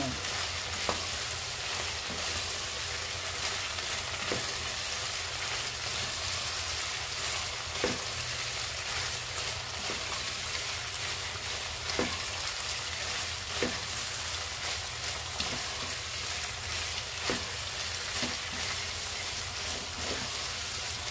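Chunks of meat for menudo fry in oil with tomato paste, giving a steady close sizzle, with a spoon scraping and tapping the pan every second or two.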